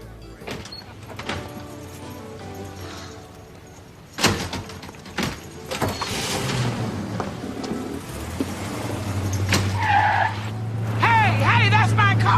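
A stolen car pulls away with squealing, skidding tires, a door thud and rising engine noise mixed with voices, the screech growing louder toward the end.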